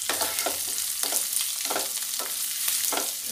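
Curry leaves and ginger paste frying in hot oil for vada pav, loud close sizzling with rhythmic stirring scrapes roughly every half second.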